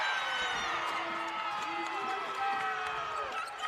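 Basketball crowd in an arena roaring and cheering after a fast-break layup in a California (PA) vs Charleston game, a loud, sustained wall of voices with scattered shouts and clapping.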